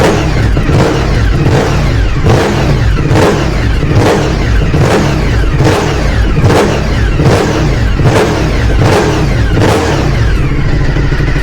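A freshly rebuilt Suzuki SV1000S motorcycle engine revs close and loud, its throttle blipped in a steady run of roughly one-second surges over a constant idle rumble, with no talking.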